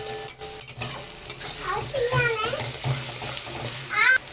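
Onion, ginger and green chilli stirred in hot oil, with steady close frying hiss and scraping strokes of a spoon; a voice talks over the sizzle in places.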